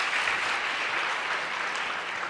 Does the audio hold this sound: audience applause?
yes